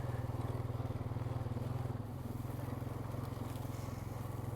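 A Honda Rancher ATV engine chugs steadily at a low, even idle-to-cruise rhythm while riding along a trail, loud and close with a brief dip midway, and no talking.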